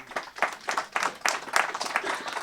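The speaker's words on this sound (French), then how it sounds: "On peut les applaudir." A seated audience at a public debate gives brief, moderately quiet applause, a loose patter of clapping hands lasting a couple of seconds.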